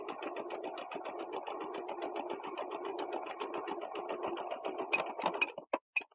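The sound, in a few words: sewing machine stitching along the fabric edge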